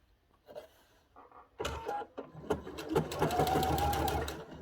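A sewing machine starts in short bursts, then runs steadily with a rapid mechanical stitching whir, close and moderately loud.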